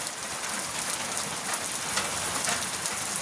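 Heavy rain pours down in a dense, steady hiss that stays constant for the full few seconds, with no voices over it.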